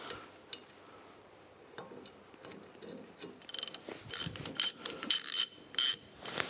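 A ratchet turns galvanized bolts holding the wheel bearing and hub onto the front upright of a Formula Konick race car, starting with faint scattered taps and then giving several sharp, close ratcheting bursts in an uneven rhythm.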